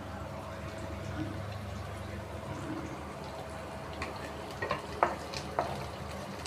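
Green chillies frying in a pan to light brown over a hot gas flame, a soft steady sizzle with a few sharper stirring clinks and scrapes near the end.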